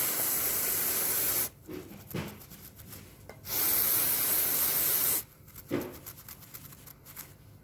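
Brake cleaner is sprayed in long hissing bursts onto a stain in the carpet of a Land Rover Discovery 2, and each burst is followed by rough, rhythmic scrubbing up close.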